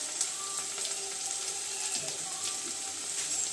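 Onion sautéing in a pan with coriander powder and turmeric powder for a vegetable curry, a steady soft sizzle with faint scraping and no talk.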